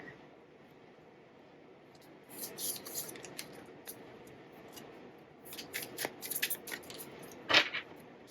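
Soft papery riffling and sliding of tarot cards being shuffled by hand in a few short bursts, quiet and close with near silence between.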